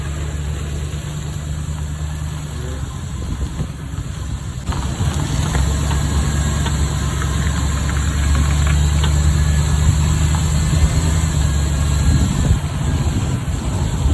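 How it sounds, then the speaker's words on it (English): A van with a suspected faulty upper ball joint runs steadily with a low engine drone and a knocking, rattling undertone, loud and continuous throughout, growing slightly louder partway in. "just hang out while I try and forget that my van sounds like this."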